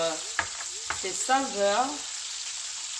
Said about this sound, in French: je fais cuire d'abord les poivrons